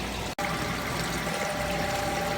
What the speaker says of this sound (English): You can see the water is draining out.